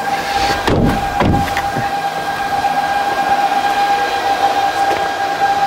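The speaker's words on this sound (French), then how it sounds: "ce qu'on entend, effectivement, ce sont les ventilateurs des onduleurs qui sont tous concentrés ici" Cooling fans of electrical inverters grouped together at an energy site produce a steady, high-pitched whine with a constant hum, joined near the start by a few brief rustling thumps close by.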